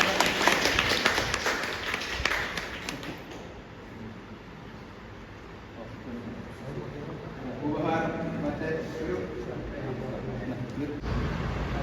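Applause breaks out at a farewell meeting of a cooperative service bank, a burst of clapping for a few seconds that fades, then talk carries on in the hall.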